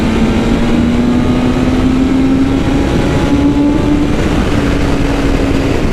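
BMW S1000 motorcycle engine held near its factory 9,000 RPM rev limiter, a loud, steady, buzzing high-rpm drone with a slowly rising pitch, close to the microphone, with no talking.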